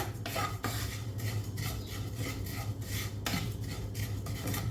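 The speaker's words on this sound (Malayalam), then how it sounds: "നമുക്ക് നമ്മുടെ പൊടികളൊന്ന് മൂപ്പിച്ചെടുക്കാം" Spice powders for a fish curry being stirred and roasted in a pan, with a spoon scraping and clinking against the metal in quick, repeated strokes, close and distinct with no talking.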